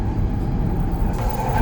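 Inside a Shinkansen bullet train travelling from Ueno to Omiya, a steady low rumble and hum of the moving carriage, constant and close, with no voices.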